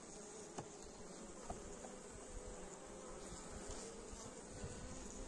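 Honeybees in a winter hive, a weak February colony being fed honey frames, hum in a steady, dense close buzz with occasional faint clicks and no talking.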